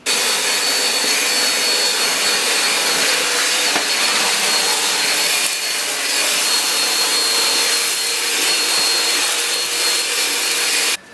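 An overvolted Black and Decker shop vac, converted from an old NiCad battery to lithium and pushed from 15.6 to 20 volts, runs with a loud, steady high-pitched whine and rushing airflow, unbroken until a sudden stop.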